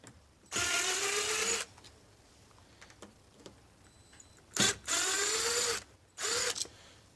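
A power drill unscrews crusty screws from a door knob and deadbolt on a playhouse door, with three loud whirring bursts of about a second each and quiet gaps in between.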